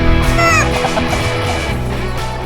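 Chickens clucking loudly and continuously close by on a New Zealand homestead, a dense jumble of overlapping calls from a flock of pullets with no talk.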